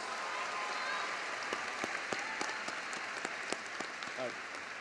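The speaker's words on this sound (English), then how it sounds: "A round of applause, please." Graduation ceremony audience at William Penn High School applauding, a steady wash of many hands clapping with a few sharper individual claps standing out.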